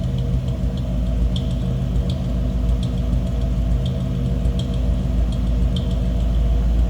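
A 1955 Chevrolet Bel Air's engine idles steadily at close range, a low continuous drone with faint regular ticking above it.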